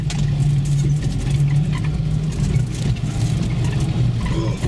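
A modified UAZ off-road vehicle pulls away through Crimea's Baidar Valley, its mid-pitched engine droning steadily and fairly loud throughout, with a continuous low rumble and no voices.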